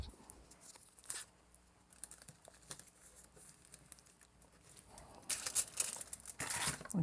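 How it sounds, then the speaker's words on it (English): Strip of tape pulled and torn off a roll to fix paper down for kitchen litho printing, heard as quiet crinkling and scratchy tearing that builds into a louder ripping burst near the end. "And you can tape it."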